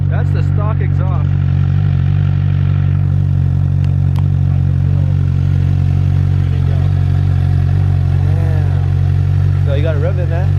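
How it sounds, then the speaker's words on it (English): A Suzuki GSX-R 600 motorcycle with its stock exhaust idles loudly and steadily at close range, a constant deep rumble while people talk over it. "That's the stock exhaust."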